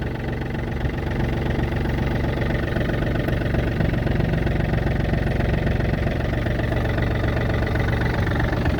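Yanmar F235 tractor engine running just after starting, a steady close diesel idle with an even knocking throb that holds loud and unchanged throughout, with no talking.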